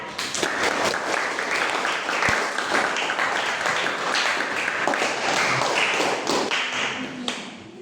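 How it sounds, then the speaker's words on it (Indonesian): Students in a classroom clap together, a dense burst of applause that stays loud and even throughout, with a few louder slaps and thumps near the end. "Oke, tepuk tangan dulu untuk kalian."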